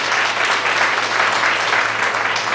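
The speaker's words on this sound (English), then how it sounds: "So please give our teachers a round of applause in the district." Steady, full applause rises from a breakfast gathering audience for the district's teachers, the dense clapping holding at an even level from start to finish.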